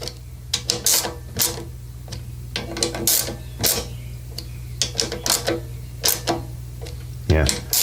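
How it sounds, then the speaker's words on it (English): A 1/4-inch drive stubby ratchet with a 10 mm socket cinches the carburetor nuts on a Honda HRR lawnmower, giving close bursts of rapid clicking with brief pauses, over a steady low hum. "I'm using 1/4-inch drive, 10 millimeter on a little stubby ratchet"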